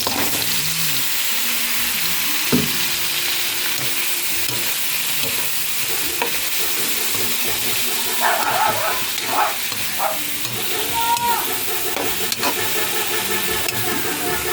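Bottle gourd (opo) frying with pork in a pan, a steady close sizzle running throughout with a few stirring scrapes and bumps.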